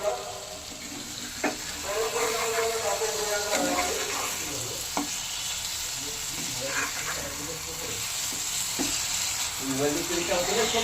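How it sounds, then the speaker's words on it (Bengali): Fish pieces fry in hot oil after being flipped, a continuous hiss and crackle with a few knocks from a utensil, moderately close and without talk. "এবার একটু উল্টিয়ে দিই, তাহলে ওই পিঠটাও ভালো করে ভাজা ভাজা হবে"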